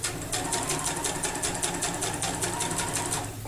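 A sewing machine stitches crumb quilt pieces together, a steady rapid mechanical whirring with regular needle clicks running throughout, close and continuous.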